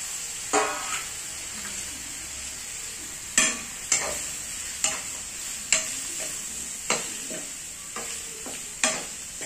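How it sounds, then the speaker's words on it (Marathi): Coriander sizzles in hot oil in a pan over a wood-fired clay stove, with a steady frying hiss and a series of sharp spoon scrapes and clinks as it is stirred at irregular intervals. "त्यामुळे मी खूप जास्त अशी तेलामध्येच परतून घेते"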